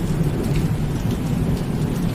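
Dense, steady rain pours down with a low, continuous thunderstorm rumble beneath it, a constant wash of sound with no voices.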